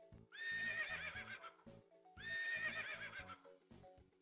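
Two long, bright horse whinnies ring out from a Bubble Guppies video game, each over a quick rhythm of clip-clopping hoof beats, with a short pause between them.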